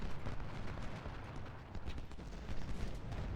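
Continuous rifle fire from massed infantry in a Civil War strategy game, Harper's Ferry battle, a dense rolling crackle of overlapping shots with low rumble, steady and moderately loud throughout without pauses.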